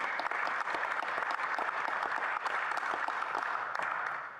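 An audience gives a sustained round of applause for Kayla during an MP's speech on Bill C-39, with dense, steady clapping for about four seconds that tapers off at the end.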